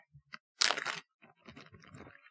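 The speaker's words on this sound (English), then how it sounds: "That is the sound of Nick opening a plastic bag with one hand" A plastic bag opened with one hand in a kitchen, quiet scattered crinkles followed by a brief louder crackling rustle and softer lingering crinkling, close and faint, no talking.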